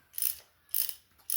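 Air impact gun or ratchet spinning on nuts during teardown of a Ford 1.6 CVH engine, three short buzzing bursts separated by pauses, close and fairly loud with no talking.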